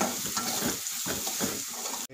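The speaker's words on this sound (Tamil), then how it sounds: "அப்போ அந்த எண்ணெயில் வெந்தயமும் ஃப்ரை ஆகட்டும்." Fenugreek seeds fry in oil for a fish pickle, a dense close sizzle pulsing with stirring strokes before cutting off abruptly near the end.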